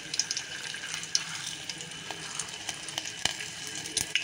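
Garlic sizzles in hot tempering oil for a bottle gourd stew, a steady close frying hiss with scattered sharp pops and crackles. The sound is moderately loud and no one speaks.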